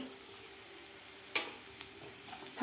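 Turmeric and coriander powder being stirred into a frying ground masala paste for a bottle gourd curry, a faint soft sizzle with a few light spoon clicks and scrapes against the pan, quiet and close.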